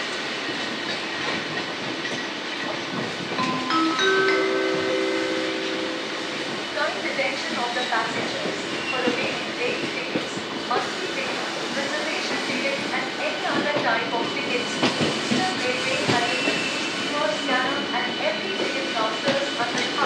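A Howrah to Belur Math local train rolls right past Liluya station, its steady wheel rumble and clatter loud and continuous throughout, with a horn-like tone early on and voices talking over it.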